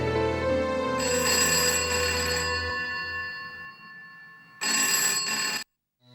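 A telephone bell rings loudly in two long bursts, the first lasting a couple of seconds and the second shorter after a pause, close by with no talking over it.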